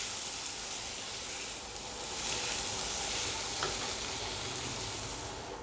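Three medium-sized tomatoes stirred and softening in a hot pan for a homemade pizza sauce, giving a steady, close sizzle with soft scraping that swells slightly midway, without any talking.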